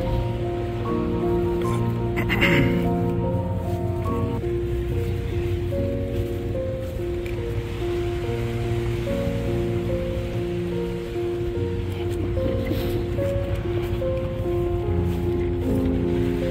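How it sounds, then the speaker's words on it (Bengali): Sea surf washes against an eroding Gangasagar shore during a full-moon spring tide, a continuous broad roar of breaking water rising and falling over the whole stretch, with no voices. "ওই হচ্ছে সমুদ্র"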